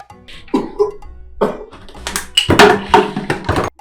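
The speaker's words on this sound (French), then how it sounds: "Est-ce que tu viens de tousser?" A few coughs and throat-clearing bursts come close and loud, spaced irregularly, with quieter rough vocal noises between them.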